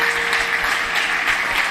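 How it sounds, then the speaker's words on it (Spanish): A church congregation applauds during a Sunday service, a steady, loud wash of many hands clapping together, with a faint sustained tone beneath. "Le damos un aplauso al Señor de gratitud"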